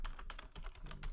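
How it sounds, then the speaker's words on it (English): Fingers tap a computer keyboard at a quick, irregular pace, producing a close run of soft clicks, with nobody talking. "I'm going to type in industries"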